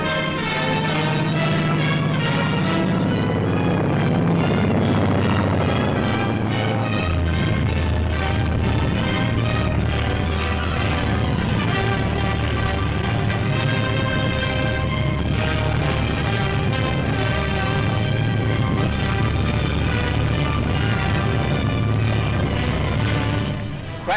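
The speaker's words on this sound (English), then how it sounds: "Navy flyers, protecting the convoy from submarines, have only 100 feet in which to land their planes." Loud, continuous roar of navy aircraft engines with booming, rumbling bursts as planes land on an aircraft carrier deck, dense and sustained throughout.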